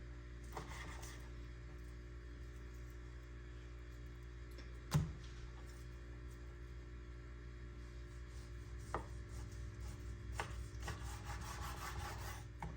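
A knife works through a Costco beef chuck roll on a board, making quiet scraping and rubbing strokes with a sharper knock midway and a few soft taps, over a low steady hum.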